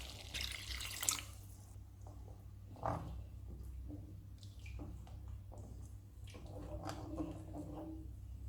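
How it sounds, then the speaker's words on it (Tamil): Water runs and splashes faintly into a cooking pot of buttermilk gravy with okra, with a few brief louder pours and trickles over a low steady background hum. "இப்போ கொஞ்சம் தேவையான அளவு தண்ணி சேர்த்துக்கலாம்."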